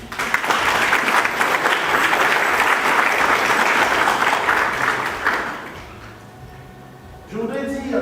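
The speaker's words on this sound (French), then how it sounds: "que je vous prie, chers convives, d'applaudir" Audience applause at a book fair ceremony, loud and sustained for about five seconds before fading out, after which a voice begins speaking.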